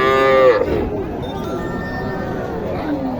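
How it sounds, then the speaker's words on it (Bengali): A native heifer moos once at a busy rural cattle market in Naogaon, the call loud and near at the start, then fading into general crowd noise. "এটা একটি দেশি বকনা"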